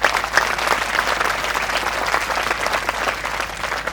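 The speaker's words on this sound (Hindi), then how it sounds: "तो इसलिए ज़ोरदार तालियां मुझे स्कूल के लिए।" An audience at a school career-oriented seminar claps for the school, a dense, steady round of applause filling the room for a few seconds.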